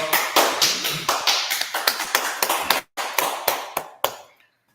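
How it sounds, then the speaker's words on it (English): Hand clapping on a Harlem street, sharp close claps in a steady rhythmic beat with one brief pause near the end, loud and alone. "All right, clap it up, clap it up."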